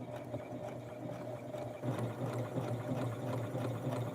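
A sewing machine stitches darts on a small retro doll blouse, running in a steady close whir that gets slightly louder partway through, with no talking.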